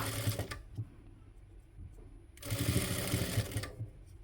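A sewing machine stitches lace onto the sleeve of a nighty in two runs of rapid, rhythmic mechanical clatter, a short burst at the start and a longer one near the end, with quiet pauses between.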